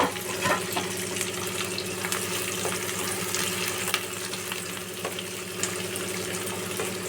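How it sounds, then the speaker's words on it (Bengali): Chopped onion frying in a pan over low heat, a steady close sizzle with occasional stirring scrapes and no talk. "এবার আমি কুচিয়ে রাখা পেঁয়াজটা আমি দিয়ে দিলাম।"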